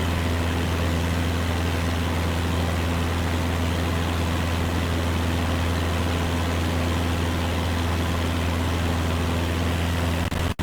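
Steady propeller aircraft engine drone in a flight simulator, cruising north toward Camden Airport, a constant loud hum with strong low tones held throughout, no talk.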